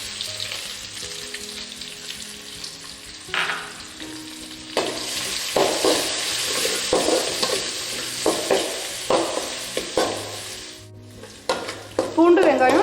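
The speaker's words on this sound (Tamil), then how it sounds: "பூண்டு வெங்காயம் நல்லா வதங்கிடுச்சுங்க." Garlic and crushed onion sautéing in a pan for poondu kuzhambu, with steady close sizzling broken by repeated stirring scrapes and clatters of a spoon against the pan.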